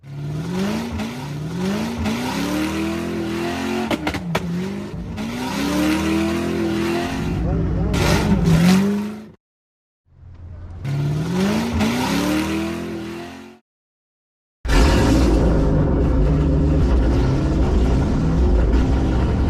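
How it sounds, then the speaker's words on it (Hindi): A real car engine revs in repeated rising sweeps, with a tire squeal, inside a rap music mix. The sound drops out twice in brief gaps, then a fuller, denser section comes back in. "मैंने गाड़ी की ही साउंड को निकाल दिया, क्योंकि मुझे पता था कि वो एक्चुअल गाड़ी की साउंड थी"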